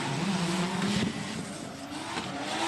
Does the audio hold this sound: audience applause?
no